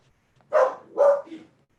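Two short barks followed by a softer third yelp, fairly close, with silence before and after.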